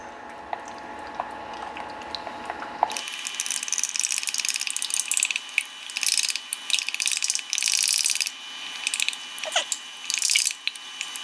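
Snow onion sauce for fried chicken being stirred in a bowl, heard as a close, busy clicking and scraping texture, quiet at first and then loud and continuous with brief pauses.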